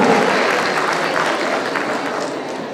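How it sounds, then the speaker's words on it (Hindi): Loud, sustained applause from a large crowd at a company employee annual day celebration. It is dense, steady clapping that fills the whole stretch without a break. "जोरदार जोरदार राउंड ऑफ अप्लॉज से बजाइए।"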